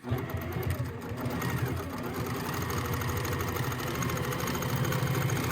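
A sewing machine joining the pieces of a Monopoly house tissue box cover, humming close and continuously with a rapid rhythmic whir that holds steady throughout.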